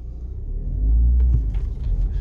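A manual Audi A3 with under 100,000 km pulls away from a garage, a close, deep engine rumble swelling as it moves off, with no talking.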